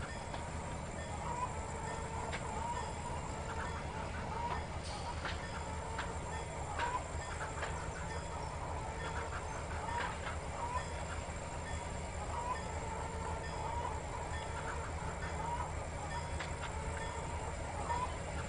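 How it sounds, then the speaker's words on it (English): A freight train on a local grain run rolls slowly through the Tidewater route in the Trainz 2019 simulator, with faint, evenly spaced wheel clacks over a low continuous rumble. "Again, modulating the train brake there to keep my speed under control."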